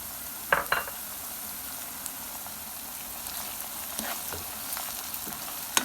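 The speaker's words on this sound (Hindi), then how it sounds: "अब हम इसमें लहसुन अदरक का पेस्ट ऐड करेंगे" Garlic ginger paste sizzles in a pan of light-browned onions over a medium-low flame as chicken qeema is started, a steady close frying hiss with a few sharp pops near the start and no talk.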